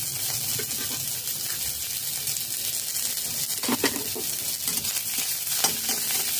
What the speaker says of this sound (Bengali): নাড়াচাড়া করে লালি লালি করে ভেজে নিয়েছি